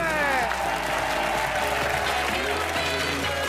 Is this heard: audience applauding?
yes